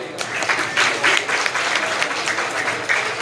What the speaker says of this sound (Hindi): फैसलाबाद के लिए तालियां बजाएं